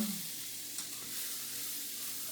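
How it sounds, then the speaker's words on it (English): Food sautés quietly in a pan for a courtbouillon, a low, steady sizzle running throughout with no voices and only a faint stir partway through. "So we'll just let it saute a little while."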